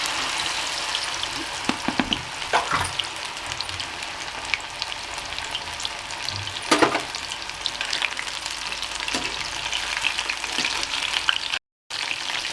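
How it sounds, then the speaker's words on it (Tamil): Mushrooms frying in groundnut oil in a kadai, a steady close sizzle running throughout with scattered crackles and a few louder stirring scrapes, no voices. "இப்போ இதை நம்ம கொஞ்சம் உதிரியாக போட்டு ஃப்ரை பண்ணிக்குவோம்"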